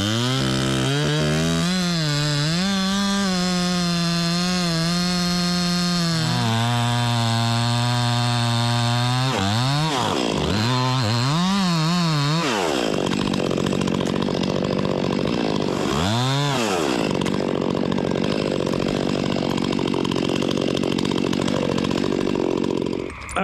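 A chainsaw cuts large tree limbs high up in a tree, its engine revving loud and close in sustained bursts, pitch rising and dropping as it bogs into the wood, then settling to a rough steady cutting drone.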